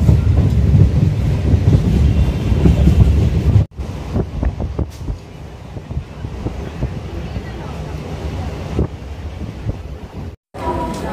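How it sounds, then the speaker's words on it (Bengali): A passenger train on a journey from Kolkata to Mayapur rumbles along the rails, heard from inside the carriage with a steady clatter, wind buffeting and rhythmic clicks throughout, while people talk over it. "ট্রেন ছেড়ে দিয়েছে, আর আমরা এখন যাচ্ছি।"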